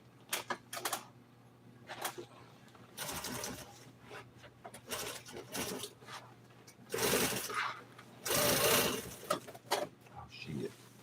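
Sewing machine stitching upholstery for 1955 Chevy seats, running in short, uneven bursts of rapid mechanical clatter with pauses between them, close and fairly quiet.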